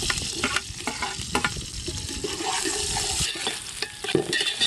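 Mustard seeds crackle and sizzle in hot oil in a pan at an outdoor village cooking setup, with busy popping and repeated stirring scrapes, close and loud.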